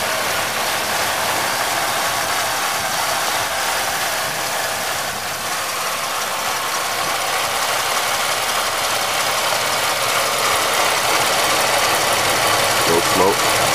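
A GM 3100 V6 idling just after a cold start with piston slap, giving a steady, loud mechanical drone with a fine rapid knocking ticking throughout, close up and unbroken.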